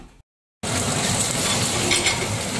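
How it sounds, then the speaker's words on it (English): Slices of Cantonese daikon turnip cake fry in a hot pan, giving a dense, steady sizzle that starts abruptly after a brief silence and stays loud and close. "Just have to slice up and fry up and see if it tastes okay."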